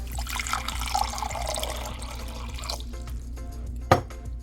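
Water is poured into a mason jar of banana peppers for a pickling mixture, a steady close splashing trickle that stops near the end, followed by a single sharp clink.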